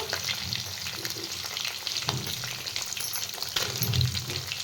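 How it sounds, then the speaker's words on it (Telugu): Mustard seeds, cumin and dried red chillies fry in hot oil for pulihora, crackling and sizzling quietly and continuously, with a few louder pops and spatters mixed in. No one speaks. "ఫ్రై అవుతుండగా చూసారు కదా ఆవాలు జీలకర్ర అందులోనే ఎండుమిర్చి కూడా వేసేసుకుందాం"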